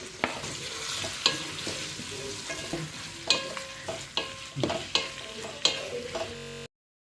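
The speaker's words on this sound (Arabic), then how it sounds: "الزيت سخن، هننزل بالبصله بتاعتنا." Onions frying in hot oil in a pot as a base for lentil soup, a steady sizzle broken by repeated clacks and scrapes of stirring, close and fairly loud, with no voices.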